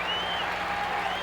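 A baseball crowd at Game 2 of the 1980 ALCS applauds Willie Wilson of the Royals, a dense, steady wash of clapping and cheering from a large stadium.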